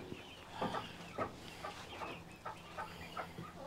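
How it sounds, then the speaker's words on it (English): Hens at a small farm with a farmstand cluck in short, uneven bursts at close range, several birds calling over one another against a soft farmyard background. "They are happy hens."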